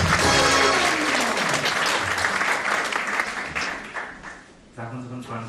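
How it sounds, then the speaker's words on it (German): Loud audience applause for a stage performer at an evening show, a dense sustained clapping that fades slightly, with background music and a brief dip near the end before it swells again. "Für Sie heute Abend einen kräftigen Applaus"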